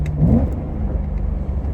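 A BMW E90 M3 with a swapped six-speed manual blips its engine on a downshift, a short loud rev swelling and falling away, close up and without talk.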